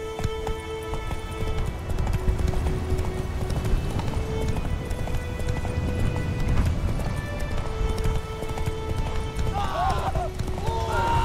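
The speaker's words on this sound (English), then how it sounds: "Run, Roach." Horse hooves gallop in a steady, rapid clip-clop rhythm in The Witcher 3: Wild Hunt, continuous and prominent throughout with ambient game sound beneath.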